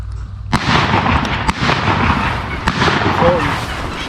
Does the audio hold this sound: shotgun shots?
yes